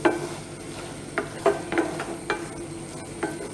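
Carrot halwa is stirred in a pan, with a spoon scraping and knocking against the metal in a loose rhythm of about eight strokes over a faint sizzle.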